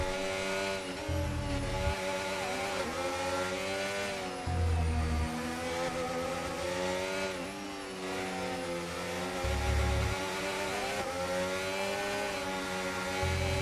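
Formula 1 car engine in a racing video game set at the Japan round, a steady high-pitched drone that repeatedly dips and stutters, with rough low bursts recurring every few seconds.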